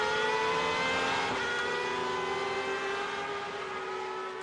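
V12 engine of a 2008 Superleague Formula race car at the Nürburgring, a high-pitched onboard scream holding steady then dropping slightly in pitch as the revs ease, loud and continuous with no talk.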